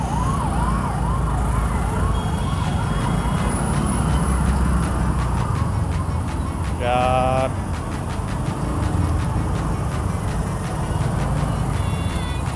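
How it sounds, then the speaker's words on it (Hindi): A wailing ambulance siren rises and falls repeatedly amid steady traffic noise, followed by a few short horn-like blasts, all fairly close. "एम्बुलेंस आ गई"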